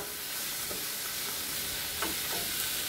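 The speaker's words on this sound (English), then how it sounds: "let me turn this up a notch and just do a little stir here" Ground beef browning in a pan on raised heat gives a soft, steady sizzle, with a few quiet stirring scrapes from a utensil and no speech.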